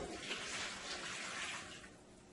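Two cups of water pour into a cooking pot holding chicken feet, vinegar and lemon juice, a continuous close splashing rush that eases off toward the end.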